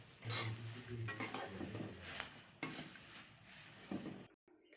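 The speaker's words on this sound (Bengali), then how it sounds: "এবার এই যে এক বাটি চিড়া এটা দিয়ে দেবো" Flattened rice is tipped into a pan of ghee with fried peanuts and stirred, making a soft dry rustling sizzle with intermittent spoon scrapes and clinks against the metal, ending in near silence.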